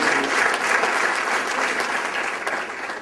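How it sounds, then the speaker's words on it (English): A business event audience gives a round of applause for the speakers: loud, dense, continuous clapping from a sizable crowd that holds steady and tapers only slightly at the end. "I'll give him another round of applause and all the other speakers that came"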